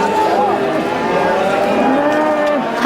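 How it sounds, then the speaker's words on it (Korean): Cattle at a busy cattle market in Toegye-dong, Chuncheon, low drawn-out moos from several animals overlapping, loud and close amid a crowded background. "우시장이 열리는 날이면 퇴계동 일대는 새벽부터 우렁찬 소 울음소리로 가득했는데요."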